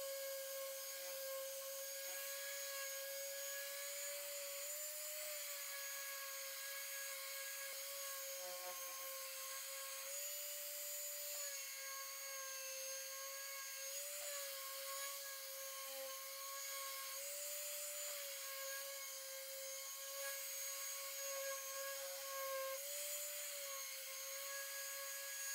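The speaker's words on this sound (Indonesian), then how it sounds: "kita ratakan dulu kerangka pintu dengan amplas mesin seperti ini" A power sander smooths a door frame made of scrap wood, giving a steady high-pitched whine with a constant hissing rub that runs without a break. It sounds fairly faint and continuous, with no voices.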